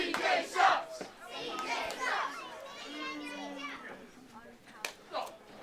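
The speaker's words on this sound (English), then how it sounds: "you hear the Pro Wrestling Clash fans telling CJ Carter what they think of him" Pro Wrestling Clash fans jeer heel wrestler CJ Carter during a live match, a mass of shouting and booing voices rising and falling in a loud arena.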